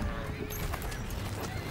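A horse neighs on a cattle ranch on the Venezuelan plains of Los Llanos, a brief whinny set in dense, noisy outdoor ambience with a voice talking over it.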